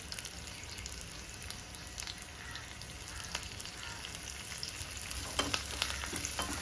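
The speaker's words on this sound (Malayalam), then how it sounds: "വറ്റൽമുളകും ചേർത്ത് നന്നായിട്ട് ഇളക്കാം" Dried red chillies and curry leaves frying in ghee, giving a soft crackling sizzle with light clicks of stirring that grow a little busier toward the end.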